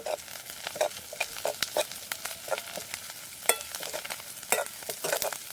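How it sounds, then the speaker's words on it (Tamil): Whole spices crackle and fry in hot oil for a traditional village okra dish, with sharp popping bursts and a continuous sizzle, stirred now and then with light metallic scrapes, close and alone. "எல்லாம் நல்லா பொரிஞ்சு வரட்டும்"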